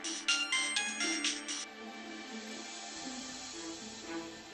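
A phone ringtone plays a bright melodic pattern for a couple of seconds, then quieter tonal music continues underneath.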